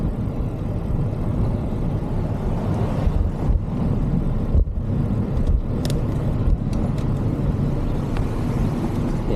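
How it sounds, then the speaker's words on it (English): Steady traffic rolls along a city street, with car engines and tire noise forming a continuous roar and a few passing vehicles swelling slightly in the middle. No voices are heard. "Every time a car goes by, it disturbs what's otherwise tranquil"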